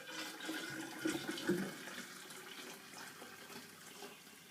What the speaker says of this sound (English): And I already boiled some more water,